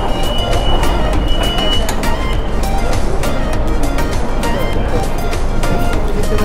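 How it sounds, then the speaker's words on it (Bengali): A Delhi Metro train rumbles loud and steady close by, a dense continuous roar of rail noise that fills the whole stretch. "ট্রেন চলে আসছে, আমরা এই ট্রেনে উঠে যাবো এখন, ট্রেন অলমোস্ট ফাঁকা।"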